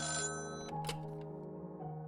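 A telephone rings with a tonal bell-like ringtone, a clear electronic burst followed by sustained ringing harmonics, fairly quiet and alone with no talk.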